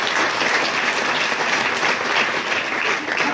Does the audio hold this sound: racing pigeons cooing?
no